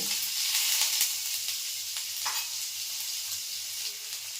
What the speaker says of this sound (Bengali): 1 চামচি ওই মাছ ভাজার তেলেই 1 চামচি আদা কুচি দেব